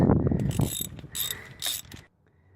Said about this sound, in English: the 3/8 drive 10 millimeter socket just fit right in there, okay. So I'm losing all these out first.